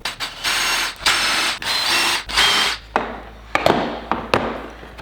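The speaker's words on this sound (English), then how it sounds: "make sure you take the time to go ahead and pre-drill" A power drill pre-drilling screw holes in wood for a gate whirs in several short bursts, spinning up and stopping, followed by brief clicks and thumps of handling nearby.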